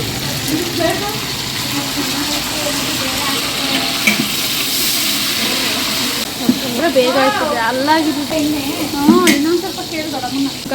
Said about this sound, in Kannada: ಅದನ್ನ ಹಾಕ್ಬಿಟ್ಟು ಚಟಪಟ ಅಂತ ಫ್ರೈ ಮಾಡಬೇಕಾಗುತ್ತೆ